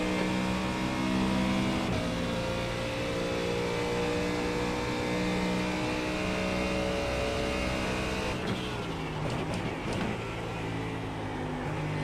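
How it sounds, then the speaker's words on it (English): A faster race car closing in during an iRacing GT3 sim race, continuous engine drone with a louder rush of a passing car near the end, no talk. "Faster car approaching, blue flag."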